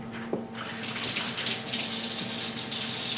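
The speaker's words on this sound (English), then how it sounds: "Now, wash hands." Hand washing under a running kitchen tap while making brownies from scratch, a steady close splash of water that starts half a second in and carries on to the end, with no talking.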